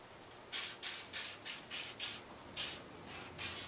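A second coat of suede and nubuck protector goes onto a pair of shoes as a quiet run of about eight rhythmic rubbing or spraying bursts, evenly spaced and close by.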